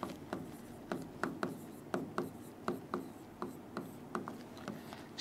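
Writing on a board during a classroom lesson: a quiet run of evenly spaced, scratchy strokes in steady rhythm, with brief gaps between them.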